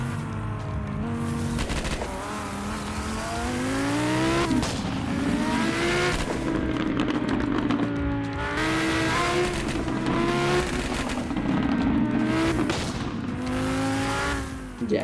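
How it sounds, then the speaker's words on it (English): A Roblox racing game car's engine revs hard through repeated rising sweeps and gear changes, loud and continuous with crackling exhaust pops and no talk. "This is the best sounding car in the game in my opinion."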